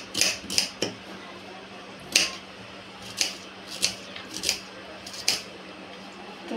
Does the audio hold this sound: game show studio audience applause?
no